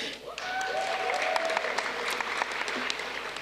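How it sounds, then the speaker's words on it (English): Applause at a university commencement for Romance Languages graduates, a crowd clapping steadily after a name is read, with faint whistles or voices over the dense clatter. "Or we can applaud after each name"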